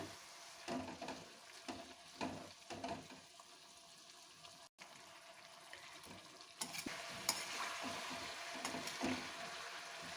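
A cauliflower and carrot pickle cooks with jaggery in a pan. A quiet bubbling sizzle runs under intermittent stirring scrapes, and the sound gets a bit louder and busier toward the end, with faint background noise and no clear speech.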